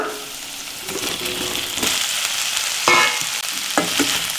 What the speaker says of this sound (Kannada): ಇದು ಸಾಫ್ಟ್ ಆದಮೇಲೆ ಈಗ ಕಟ್ ಮಾಡಿರುವಂತಹ ನುಗ್ಗೆಕಾಯಿ ಹಾಕ್ಕೊಳ್ಳೋಣ